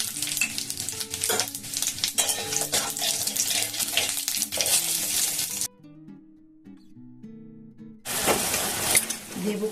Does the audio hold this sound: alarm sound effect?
no